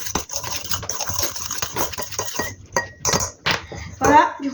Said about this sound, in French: On va tout mélanger. On mélange le mélange.